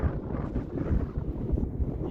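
Wind gusting across a snowy mountain trail at about 11,000 feet, a low rumbling buffet against the microphone that swells and dips continuously, close and fairly loud with no talking.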